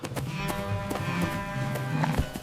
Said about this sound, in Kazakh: төрт түліктің бірі қой, қой екен, жүні жұмсақ, аппақ екен.